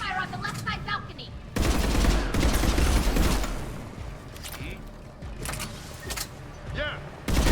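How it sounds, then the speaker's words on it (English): Gunfire from a crossfire in the video game Mass Effect 3 Legendary Edition rattles in loud, dense bursts that cut off and resume, with brief quieter stretches in between. "Crossfire on the left side balcony!"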